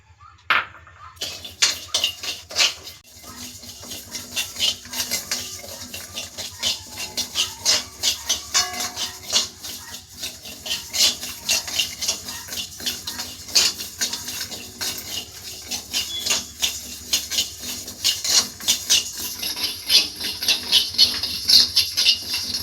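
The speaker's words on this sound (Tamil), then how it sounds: "அடுத்து கவனி அரிசியை தட்டி வறுக்க வேண்டும்." Kavuni black rice is pounded and roasted in a pan, with rhythmic metallic tapping and clinking close by that repeats steadily and grows busier and louder toward the end.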